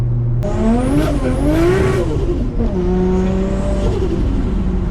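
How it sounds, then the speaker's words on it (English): A revving Nissan RB25DET turbo engine in an R33 Skyline rises and falls, with fluttering turbo chatter and sharp external wastegate hisses between pulls, loud and close with no talking. "I just love the way the external gate sounds, the turbo flutter."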